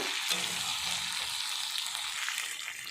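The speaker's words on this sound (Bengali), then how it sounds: "এবার আমার আগে থেকে ভিজে রাখা আলুগুলো আমি দিয়ে দিচ্ছি, দিয়ে আর একটু ভালোভাবে কষিয়ে নেব" Meat and soaked potatoes being sautéed with spices in a pan for a meat curry give a steady, bright hiss of sizzling, close and fairly quiet, with no talking.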